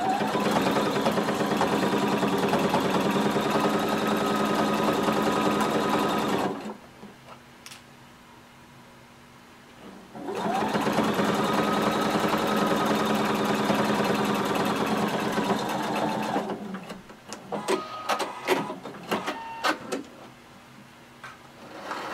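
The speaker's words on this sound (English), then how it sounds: "And we're going to sew starting from the bottom." A sewing machine runs a jumpsuit seam up from the bottom in two long stretches of steady motorized whirring, split by a quiet pause, followed by scattered clicks and clatter of handling the fabric.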